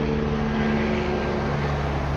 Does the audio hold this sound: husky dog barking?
no